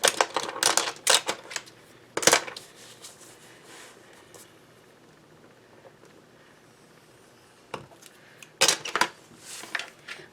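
Card paper being scored and folded by hand for a landscape greeting card, giving sharp clustered crisp rustles and taps at the start and end with a quiet pause between.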